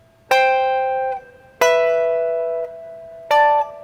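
Guitar chords plucked in a Shona mbira style, three separate ringing strums, each sustaining and fading before the next, clear and alone.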